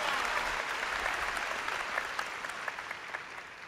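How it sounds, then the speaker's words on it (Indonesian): Church congregation applauding in a steady, dense clapping wash that holds throughout, fairly loud and full, with no voices standing out. "Ayo tepuk tangan lagi, lebih keras."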